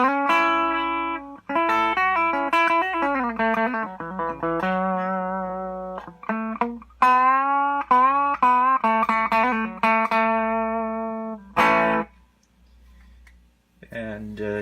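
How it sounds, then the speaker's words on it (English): Clean electric guitar, a Gibson SG played into a Fender Blues Junior amp, ringing sustained notes and chord phrases with clear harmonics over a faint steady low hum, ending in a few short picked notes. "this is the clean sound without the pedal on. I'm just playing my SG into my Blues Junior."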